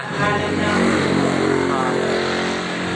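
A Honda PCX160 scooter engine runs steadily at close range during a workshop engine check, its idle hum loud and continuous for the whole few seconds, with a slight swell in level partway through.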